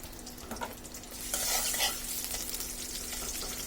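Chopped onions hit hot oil in a pan for a chicken leg curry: a steady, close hiss of frying with scraping stirs, swelling louder midway and then settling into an even sizzle, with no one talking.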